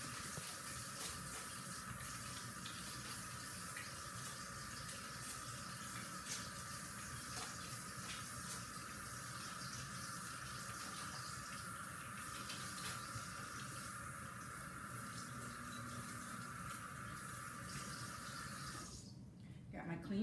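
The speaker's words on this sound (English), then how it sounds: "I'm gonna quick, but not too quick, wash my hands." Hands being washed under a running kitchen tap, a steady close hiss of flowing water that runs unbroken for about twenty seconds before cutting off abruptly at the end.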